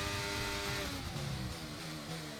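F1 23 race cars overtaking, several high-revving engines roaring together with shifting pitch as they pass, a loud continuous whine with rising and falling harmonic tones.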